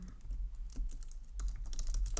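Quiet, fast typing on a computer keyboard at home, a run of light clicky keystrokes close by over a low background hum.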